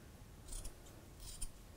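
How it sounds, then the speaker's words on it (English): Sharp scissors snip through unbraided rope fibers while a line is being spliced, two quiet, crisp double-clicks of the blades spaced about a second apart in a hushed room. "with a nice sharp scissors come into play"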